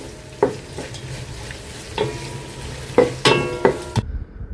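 Onions fry in a pan with cinnamon, making a soft continuous sizzle, while a utensil strikes and scrapes the pan in several irregular clinks.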